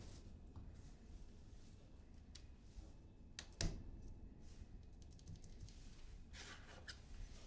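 Someone types on a Typeface Universe 75% mechanical keyboard, giving quiet, scattered clacky keystrokes close by with one sharper tap, over a faint room hiss.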